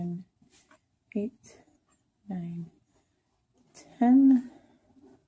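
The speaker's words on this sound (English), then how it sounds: "I'm sorry about my dog in the background." A dog whimpers and whines in the background, a few brief faint whines with one louder, drawn-out whimper near the end, while a man counts aloud during a vape coil build.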